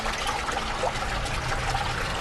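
Fresh spring water trickles among the rock valleys of Petra, a steady, fairly soft splashing and dribbling that runs continuously without pause.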